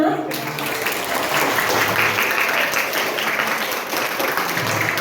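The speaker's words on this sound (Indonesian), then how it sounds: "ya beri tepuk tangan untuk Umar." A classroom crowd claps steadily for a student named Umar at a school farewell for two teachers, a dense, even patter of many hands that fills all five seconds without a break.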